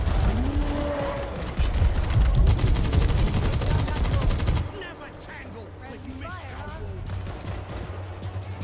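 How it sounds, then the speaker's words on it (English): Assault rifle fire in World War Z, a rapid dense burst of shots over loud ambient din, then quieter scattered mechanical clicks and noises after the volley stops. "Let's go for the assault rifle."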